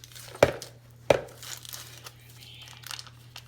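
Cream cheese, an 8-ounce block, is peeled out of its foil wrapper with two sharp crinkling tears followed by softer rustling, close up and with no talking.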